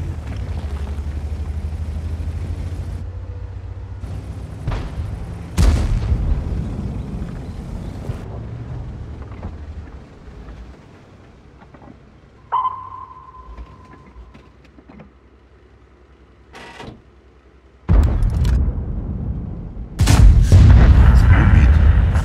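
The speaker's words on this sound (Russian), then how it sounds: "Орудие готово к стрельбе." ISU-152 tank gun firing in World of Tanks, several heavy booming shots separated by quieter stretches of engine rumble, with a brief tonal ping in the middle and a loud burst of noise at the end.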